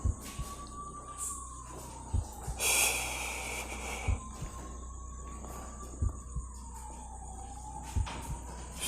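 An ambulance siren wails in a slow rising and falling tone, fairly faint and distant, running through the whole stretch with occasional thumps and breathing close by.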